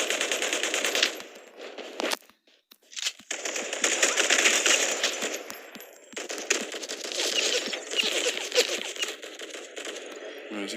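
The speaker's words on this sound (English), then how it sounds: "They're still shooting each other by the sounds of it." Gunfire in the battle royale game Omega Legends, rapid automatic bursts crackling from a distance, fairly faint, with one brief lull before the shooting carries on steadily.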